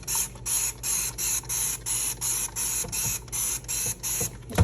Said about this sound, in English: You can just spray this all over